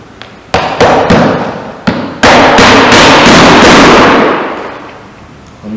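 Hammering 20mm clout nails into trim on a felt roof being bonded to a GRP roof: several sharp, loud strikes in an uneven rhythm, the last blows ringing out longer.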